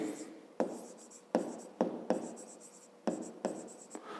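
A pen or chalk writes out a fifth-grade math solution, making a series of sharp scratching strokes with short pauses between them, close and fairly quiet.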